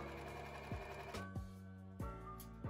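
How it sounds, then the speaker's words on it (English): An overlocker sews a sleeve onto an armhole of a ruched high-neck top, running in a steady mechanical whir broken by a few short, sharp knocks, close and alone with no talk. "then I'm going to sew with my overlocker all around"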